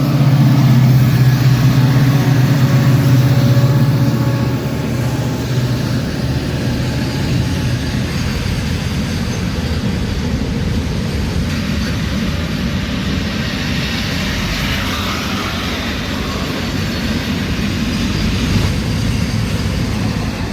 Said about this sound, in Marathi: WDP 4D डिझेल इंजनसोबत मित्रांनो मालगाडी या ठिकाणी क्रॉसिंग होत आहे आपल्याला लिमगाव रेल्वे स्टेशनवर. काय डिझेल लोकोमोटिव्हचा आवाज आहे